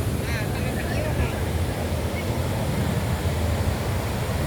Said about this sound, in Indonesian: Inilah suasana Pantai Muaro Padang di malam hari setelah terbenamnya matahari.